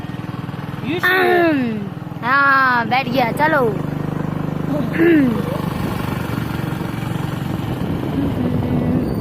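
A motorcycle engine idles and pulls away with a rider aboard, a steady low motor hum running under brief bursts of nearby talking.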